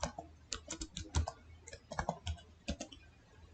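Keys clatter on a computer keyboard on a Windows 11 PC, a quick irregular run of close, crisp clicks in short bursts with brief pauses between them and no speech.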